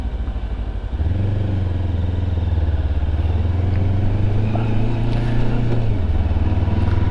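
A Sinnis Terrain 380 motorcycle climbs a steep hill in a short gear, its single engine droning loud and close with a steady low throb that rises in pitch after a second and holds under the load before easing near the end.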